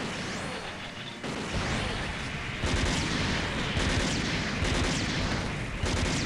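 Dense, continuous gunfire and booming blasts in the video game SD Gundam Capsule Fighter rumble loudly, with repeated shots and explosions layered into a heavy, chaotic barrage.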